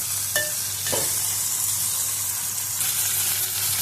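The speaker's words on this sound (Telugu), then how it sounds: "ఇప్పుడు టమాటో వేసి కలిపాను." Tomatoes are added to a pan of frying cauliflower curry and stirred, a steady loud sizzle running throughout with a few sharp spoon scrapes near the start.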